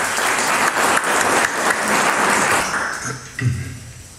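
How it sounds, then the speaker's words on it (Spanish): Warm audience applause welcoming a professor to speak at a lecture in Lima, dense and loud clapping that holds steady, then thins out and fades over the last second. "Acogemos con un aplauso, por favor."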